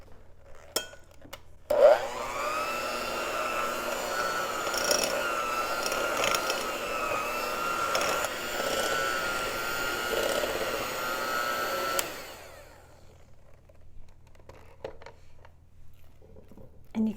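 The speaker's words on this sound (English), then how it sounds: "I'm going to take the lazy route and use a hand mixer" Electric hand mixer beating thick cinnamon cheesecake coffee cake batter, switching on with a click into a steady close whirring drone that strains slightly for about ten seconds before cutting off.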